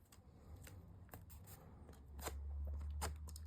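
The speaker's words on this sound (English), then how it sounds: "I just take my scissors and I cut away a little V towards the corner" Scissors snip through patterned paper while a beach-themed pyramid scrapbook album is assembled, giving a series of sharp, close crisp cuts in an irregular rhythm over a low background hum.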